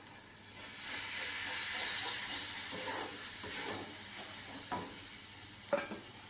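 Water hits a pan of garlic butter paneer, setting off a loud, steady sizzle and steamy hiss that gradually settles, with a few light stirring clicks near the end.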